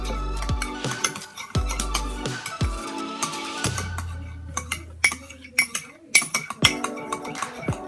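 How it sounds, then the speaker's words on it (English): A utensil clinks and scrapes against a bowl while homemade slime made without glue, borax or cornstarch is mixed, with irregular knocks and sharp clinks throughout. "So you'll want to be mixing for about 5 minutes."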